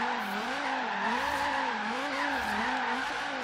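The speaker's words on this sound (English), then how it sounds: "Hit the e-brake a little late, but still carrying a nice drift throughout the turn there." Continuous tire squeal from a Chevrolet Bel Air sliding sideways through a turn in Forza Horizon 3, a loud wavering screech that rises and falls with the drift over a steady engine drone.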